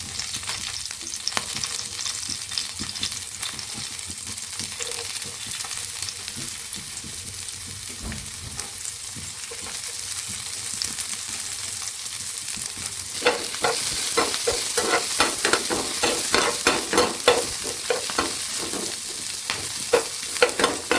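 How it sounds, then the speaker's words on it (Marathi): Onion and green chili sizzle in a pan, a steady frying hiss joined later by frequent scraping and stirring clicks that grow louder and busier toward the end. "कांदा आणि मिरची भाजलेली आहे"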